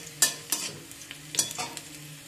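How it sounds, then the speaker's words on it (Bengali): Chopped garlic sizzling in hot oil in a pan, with a few sharp scraping stirs over a steady, soft frying hiss, heard up close. "রসুন আমাদের এখানে লাল লাল হয়ে ভাজা হয়ে গিয়েছে"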